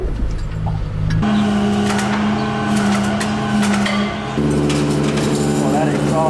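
Hot turbocharged BMW E46 with a blown-up 515 whp M52 engine, idling loud and close after a drive, with a rough, uneven exhaust drone and metallic ticking, while people talk over it.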